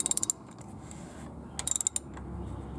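Wrench turning a cartridge oil filter housing on a 2014 Toyota Corolla during an oil change, giving two quick bursts of sharp ratcheting clicks, each about six clicks, close up with quiet pauses between.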